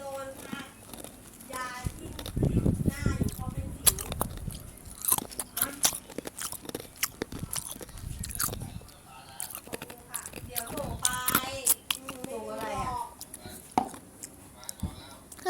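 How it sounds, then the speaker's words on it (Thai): Ice being chewed close to the microphone in an ASMR-style setting, with irregular crunchy bites and crackles scattered throughout, some soft whispering in between. "ผมเคี้ยวน้ำแข็งนะ"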